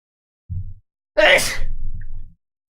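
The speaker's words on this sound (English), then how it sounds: "Alright, I keep sneezing." A single loud, close sneeze bursts out sharply, followed by a brief low exhale; a short low sound precedes it, with silence around.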